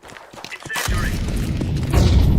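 A grenade explodes in Counter-Strike 2 with a loud, deep boom after a few light clicks and footsteps, followed by a rumbling low tail that swells, with a voice briefly present.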